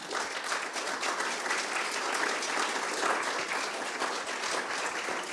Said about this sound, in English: I would like to first thank our panelists with an applause.